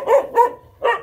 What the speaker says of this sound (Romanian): câine aici